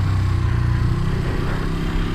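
A 1973 Honda CL350 motorcycle engine revs loudly and close by, a steady throbbing drone building up before a jump.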